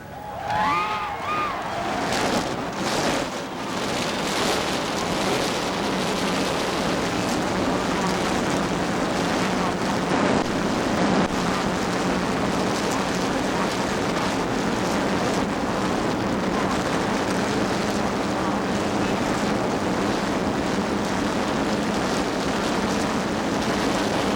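Forty-two stock car engines fire up together at the start of the 1981 Daytona 500 on a very cold, windy day, a dense, steady roar that holds for over twenty seconds with wind buffeting the microphone.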